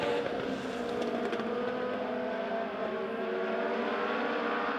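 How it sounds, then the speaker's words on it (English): Legend race cars at Springfield Raceway, their engines droning and revving steadily in a continuous roar from the distance as the field circles the track. "Dave Comer still all alone out front in car number 44."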